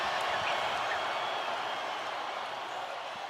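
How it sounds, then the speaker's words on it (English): A large football crowd cheers and applauds in a dense, continuous roar, heard from a distance with no clear individual voices standing out. "take your headsets off and just listen to this crowd, Roger."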